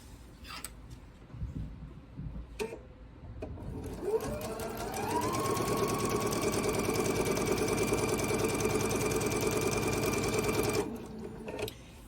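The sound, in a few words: sewing machine stitching a quilt block seam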